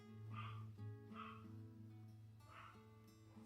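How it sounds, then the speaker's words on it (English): A small dog barks and yips repeatedly in a steady rhythm, fairly faint, with no talking. "So if you can hear my little dog barking"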